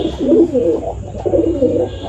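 Gola Madrasi pigeons coo close by in two soft, rolling bursts, low and throaty, with a faint steady hum behind them.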